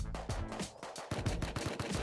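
Rapid bursts of rifle and tommy gun fire in the survival game Rust, loud, crackling shots fired in quick succession with short gaps, some near and some farther off, and no voices over them.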